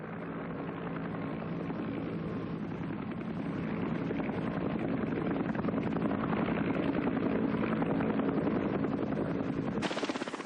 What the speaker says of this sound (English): a wounded man could expect to be picked up by medevac helicopter in less than half an hour.